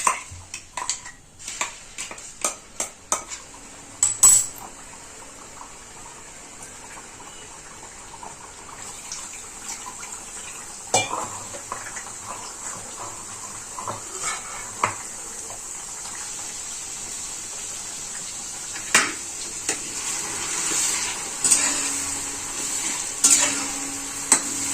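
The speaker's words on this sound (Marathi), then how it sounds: "त्याच्यात छान असा मसाला तळून घ्यायचा आहे आपल्याला." Masala spices frying in hot oil in a kadhai for Vidarbha-style patodi rassa, with a steady sizzle under repeated scraping and clinking of a spoon stirring against the metal pan, close and fairly loud.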